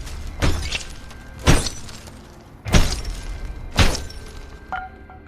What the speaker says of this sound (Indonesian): ia mengambil tongkat kayu lalu memukul kaca depan mobil Sam